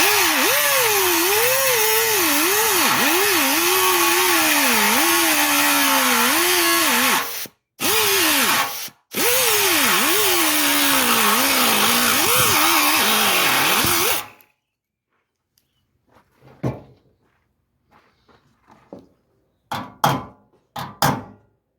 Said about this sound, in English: I'm just going to ride the disc on this edge here and just open up the hole underneath.